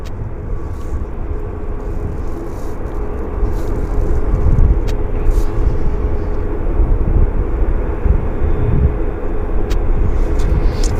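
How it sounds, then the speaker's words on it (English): An aircraft on final approach to a wet YVR runway, a continuous broad rumbling roar that swells a little louder partway through, heard from a distance with no talking. "We do have another aircraft on finals as well"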